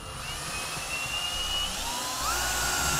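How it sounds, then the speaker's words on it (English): A power drill whines steadily at close range while drilling a pilot hole with a 1/4-inch bit, its pitch rising slightly as it bites in, over a low rumbling background. "I'm gonna be drilling a pilot hole with a 1/4-inch drill bit"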